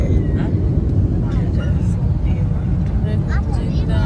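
Steady low cabin rumble of an airliner coming in to land at Jeddah airport, loud and continuous throughout, with people talking over it.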